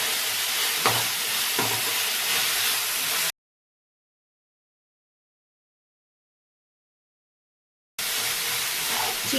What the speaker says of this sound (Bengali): চিকেন আর টমেটোর থেকে জল শুকানো অবধি একটু আমি ভেজে নেব।